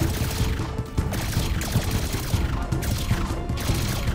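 Rapid laser machine gun fire from a Star Trek: Picard scene rattles in loud, dense, continuous bursts across the whole stretch.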